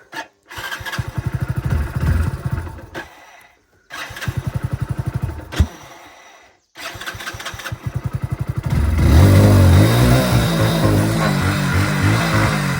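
A motorcycle engine is started and revved several times in short bursts with brief pauses between, then settles into a louder, sustained rev close by on a farm.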